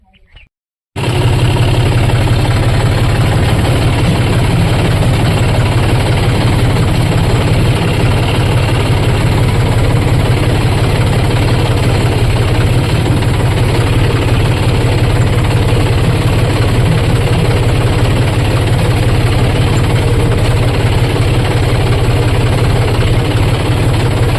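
A tractor engine idles loudly and steadily close by, a constant rumbling drone that runs unbroken to the end after a brief quiet start.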